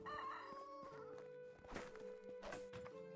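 A rooster crows in the medieval farming game Medieval Dynasty, a single drawn-out cock-a-doodle-doo at close range with faint clucks and footsteps around it, no talk over it.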